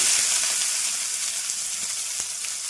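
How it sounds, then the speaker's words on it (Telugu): Onion pieces sizzle and fry in hot groundnut oil with green chillies, a steady bright crackle that stays close with occasional stirring pops. "ఉల్లిపాయ ముక్కలు వేస్తున్నాను."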